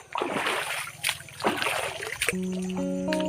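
River water splashes and sloshes loudly and continuously near the bank, with a steady tonal hum entering partway through.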